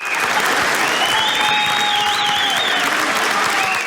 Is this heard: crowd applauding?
yes